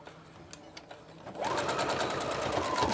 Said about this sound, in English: I'm going to sew really close to the edge of this fold from the wrong side of the fabric.